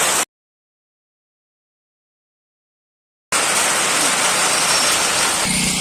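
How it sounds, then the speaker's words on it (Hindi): Steady rain pours outdoors during a roadside stop on a motorcycle trip, a dense even hiss after a stretch of silence, with a low rumble near the end. "यहाँ पे भी बारिश हो रही है"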